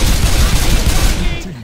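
Rapid gunfire from the zombie shooter game Left 4 Dead 2, a loud, dense burst of overlapping shots at close range that tails off at the end, with players' voices mixed in.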